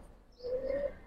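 A single Giribaz pigeon, a full-ring tumbler kept in a loft, gives one short close coo, a brief sustained tone rising out of quiet room noise.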